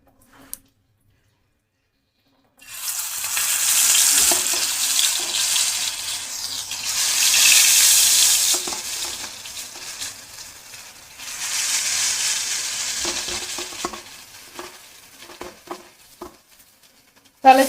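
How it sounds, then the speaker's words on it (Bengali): Rui fish pieces frying in a hot frying pan, a strong hiss that swells and fades in waves as pieces go in, with small clicks and pops between them. "তাহলে চলো এই মাছগুলো ভেজে নিয়ে"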